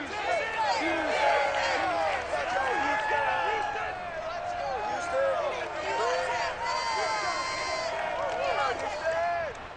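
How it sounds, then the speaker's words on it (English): Stadium crowd in Madden NFL cheering the Houston Texans as they emerge from the locker room on Monday night against the Panthers, a continuous roaring swell of voices and whistles with a commentator talking over it. "this crowd enthusiastically cheering on their Texans as they emerge from the locker room"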